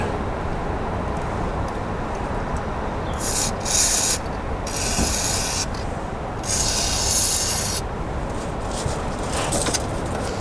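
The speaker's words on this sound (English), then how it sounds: "we'll just give this a clean with some gasket cleaner and a bit of Scotch Brite" A part from the thermostat housing of a MK2 Volkswagen Golf is scrubbed with a Scotch-Brite pad and gasket cleaner. It gives steady close rasping and rubbing in several hissy bursts over a constant low background.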